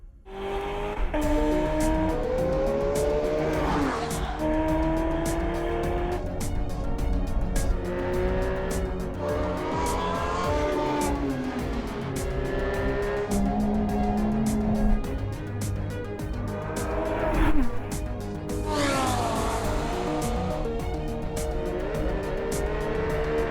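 Aston Martin V12 Vantage S lapping the Nürburgring, its V12 engine rising and falling through repeated upshifts and downshifts, loud and close from on board, with brief tire noise in the corners.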